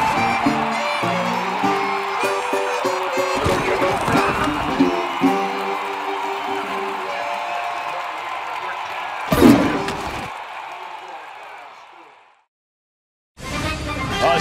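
A sellout stadium crowd at the Cotton Bowl in Dallas, Texas, roars and cheers on a chilly morning. The noise swells under music and voices, with a loud burst midway, then drops out briefly near the end.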